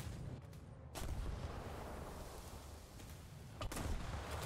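Ship guns fire in a naval battle video game, heavy booming blasts at about one and three and a half seconds over a constant rumbling battle backdrop, fairly faint overall.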